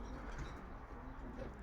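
Pigeons in a breeding loft coo softly and continuously, low and muffled under a steady indoor hum, with no clear pauses.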